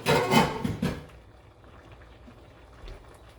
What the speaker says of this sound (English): we're going to dump our lentil with whatever liquid in the bottom right inside